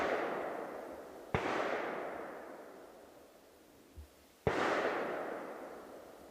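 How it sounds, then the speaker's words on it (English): Two heavy gunshots from a large gun at an outdoor range, each a sharp crack trailing into a long rolling echo, spaced about three seconds apart, fairly distant. "Somebody's shooting something big over there."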